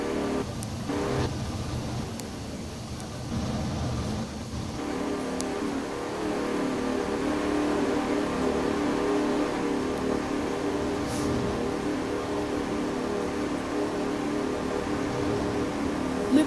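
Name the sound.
car engines revving in Pummu race video game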